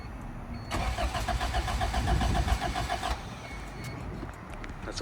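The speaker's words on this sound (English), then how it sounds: "Let's get that cold start real quick." A Honda CRX project car with an aftermarket exhaust cranks on a cold start with a rapid whirring starter, then catches and settles into a rough idle.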